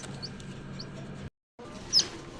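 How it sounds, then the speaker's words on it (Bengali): A newly hatched chicken chick in an egg incubator gives a single sharp, high peep near the end, heard close over a low steady machine hum, after a brief moment of silence. "তো এই যে একটা মুরগি বাচ্চা ফুটছে"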